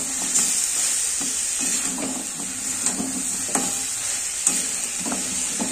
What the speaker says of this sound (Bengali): তো দেখুন পেঁয়াজটা দিয়ে খানিকক্ষণ আমি নাড়িয়ে নিয়েছি